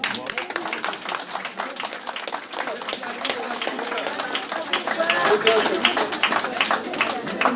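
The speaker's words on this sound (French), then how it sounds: "Vous pouvez vous applaudir" Hospital workers applaud together at a strike gathering outside a hospital in Meulan-les-Mureaux, a dense, steady burst of many hands clapping that holds for several seconds, fairly close, with a few voices mixed into the crowd noise.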